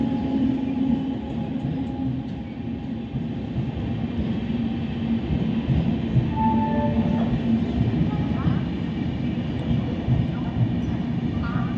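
Trains at an Indian railway station on the Ujjain to Howrah route, a steady broad rumble filling the whole stretch, close and moderately loud with faint tonal squeals and station bustle.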